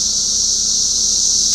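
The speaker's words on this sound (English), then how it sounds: "I'm very sorry if you can hear the cicadas. They are insane." Loud cicadas drone outdoors in a continuous, intense high-pitched buzz that stays steady and close without letting up.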